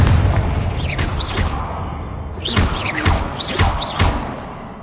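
Booming Confringo fire-spell blasts from Hogwarts Legacy go off in several bursts, with whooshing projectile sweeps over a constant low rumble of in-game ambience.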